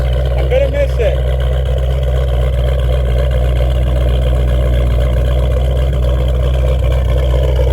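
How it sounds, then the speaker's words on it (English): A loud, steady, rumbling cammed 3V V8 Ford Mustang GT idles close by with a deep, constant exhaust drone through a Pypes muffler, while a voice talks briefly near the start. "This is the last time you will ever hear"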